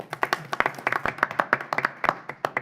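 A small audience at a county commission meeting claps for a few seconds, scattered close handclaps in an uneven patter, with no talking over it.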